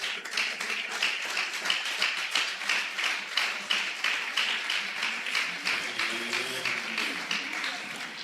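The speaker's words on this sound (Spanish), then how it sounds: "Aplaude con más gozo todavía" Church congregation clapping in rhythm during a Spanish-language worship service about offerings; a steady, even beat of many hands repeated throughout, fairly close and lively, with faint voices beneath.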